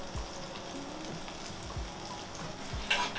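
Garlic frying in leftover oil in a pan for a salmon and nanohana pasta, a soft steady sizzle with a few low knocks from the pan and a brief brighter crackle near the end, no voices.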